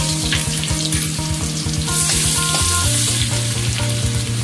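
Cloves, cardamom, cinnamon and garlic and ginger paste fry in hot oil with a loud, steady sizzle, broken by rhythmic scraping and stirring in the pan throughout.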